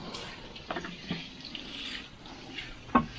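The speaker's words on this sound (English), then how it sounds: "I'm going to give this a bit of a soaking and then leave it just to settle down" Water poured from a can onto very dry compost on an allotment bed, a faint, close trickle and splash with a few small knocks, and no talking.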